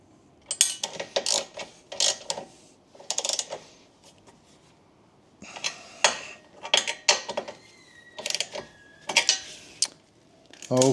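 Synthetic rope being wound by hand onto an ATV winch drum with a fairlead fitted, heard as bursts of close mechanical clicking and ratcheting rattles separated by short pauses, with no talk.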